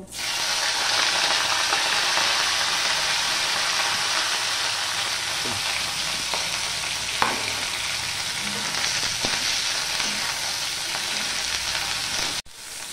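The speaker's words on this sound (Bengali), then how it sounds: "সবার প্রথমে আমি ব্রোকলিটা ভেজে নেব।" Broccoli fries in a hot pan with a loud, steady sizzle throughout, broken by a few soft clinks and stirring scrapes, before a sharp cut near the end.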